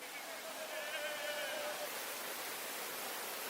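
Kalhatti waterfall rushes with a continuous, even hiss of falling water, a dense steady roar that stays constant throughout.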